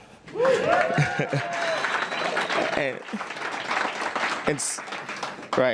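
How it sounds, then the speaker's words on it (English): An audience at a startup accelerator demo day applauds, steady clapping that fills the room for several seconds while a presenter speaks over it. "Take applause for that one."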